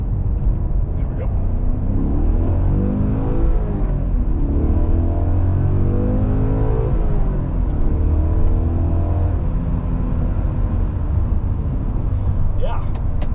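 A BMW E39 M5 engine hums steadily from inside the car as it accelerates on the road, its rising and falling tones carrying under continuous road noise while a person talks.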